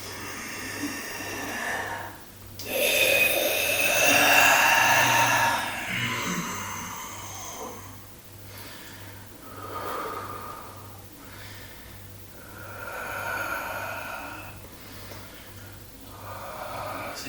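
Several deep, audible breaths drawn in and let out during a guided home workout session, close and fairly loud, with slow pauses between them and no talking.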